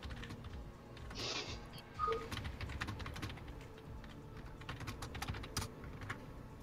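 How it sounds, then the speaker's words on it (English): Rapid computer keyboard typing fills the whole stretch, an irregular run of close, crisp key clicks with a few louder taps and occasional faint background tones from a game. "Oh, you were typing in this chat the whole time?"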